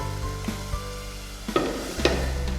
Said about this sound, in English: So you add the masala spoon by spoon and stir well.